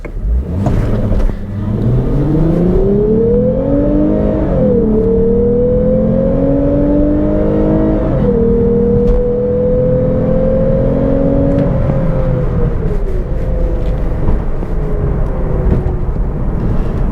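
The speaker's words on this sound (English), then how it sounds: "As soon as it revs, I'm going to take off." 2022 Lexus IS350 F Sport launching from a stop, engine revving up sharply then pulling through rising gear sweeps with brief dips at shifts, loud and close from inside the cabin, no talk.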